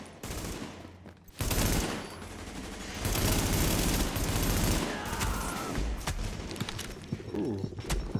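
Dense bursts of rapid gunfire crackle almost continuously after a brief quiet start, with a game-like mix of shots and effects from the video game The Division, loud and close.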